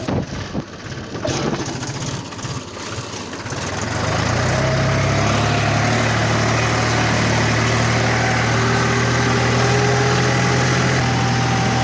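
A small vehicle engine runs steadily on the way to a village field for fishing, a continuous droning hum that builds in the first few seconds and then holds loud and close, with no talking.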